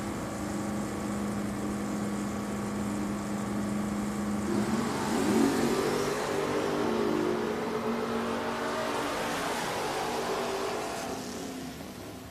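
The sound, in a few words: drag racing 1970 Opel and 1972 Chevelle at Richmond Dragway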